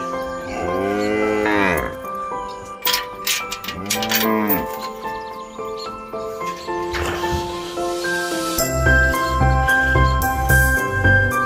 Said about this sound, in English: It's always a good sign to see the cows, especially they make noises